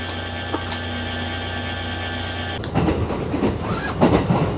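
Kintetsu Urban Liner limited express bound for Osaka Namba, running on rails through Mie and Nara, heard from inside a car: a steady electric hum that swells into a louder rolling rumble of wheels on track partway through, with no talk.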